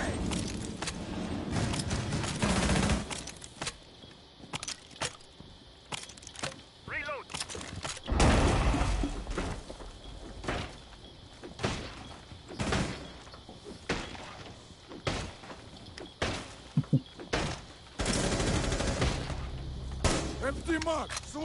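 Video game gunfire from a 1v1 match: repeated sharp shots and bursts scattered through the clip at varying loudness, mixed with other game effects, with players talking over much of it.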